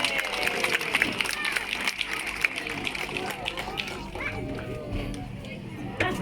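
A crowd with many children cheers for Nellie the fur seal at a sea aquarium show, a busy mix of shouts, scattered claps and chatter that eases slightly toward the end.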